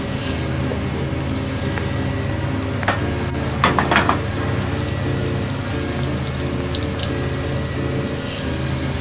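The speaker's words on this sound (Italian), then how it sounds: "per un minuto lasciamo soffriggere la nostra carbonara di scelta" Cinta Senese pancetta frying in a pan for carbonara, with a constant close sizzle and a short burst of clattering utensil knocks partway through.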